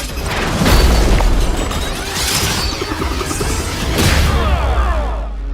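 Cartoon explosion from an explosive attack, with heavy booming blasts and rushing whooshes rolling in several loud waves, then a final burst fading out.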